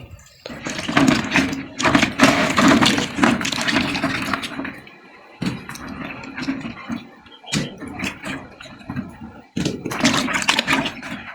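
Ripe mangoes fallen in a storm being washed by hand in water, with bursts of splashing, clattering and knocking that come in several close, loud spells separated by short pauses.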